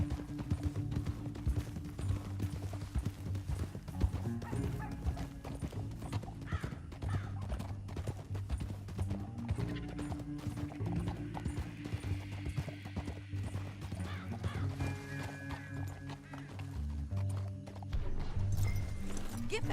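In Red Dead Redemption 2, horse hooves clip-clop steadily and loudly for a long stretch, with several horses apparently moving together, a whinny or two above them and game music and ambience underneath.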